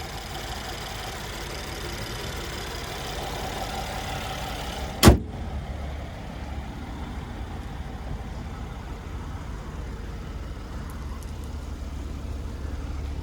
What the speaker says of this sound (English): And there it is, a 3-liter twin turbo V6.